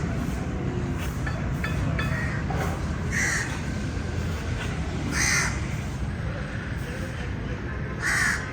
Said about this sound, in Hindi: ये कौवा क्या कह रहा है